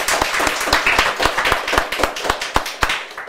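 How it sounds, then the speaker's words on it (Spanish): A small group claps for children in a church gathering, a steady run of sharp individual claps at an even rhythm, loud and close without voices. "Un aplauso para los niños."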